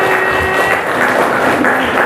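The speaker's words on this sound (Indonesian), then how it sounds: "Tepuk tangan untuk kalian semuanya" A classroom of students applauds together, a dense, steady wash of close clapping that carries on without pause for about two seconds, with a faint tonal hum running beneath.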